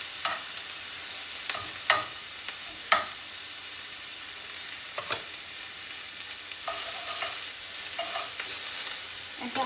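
Onions caramelizing in a pan give off a steady soft sizzle, broken by a few sharp scraping clicks as a utensil stirs them; no one speaks.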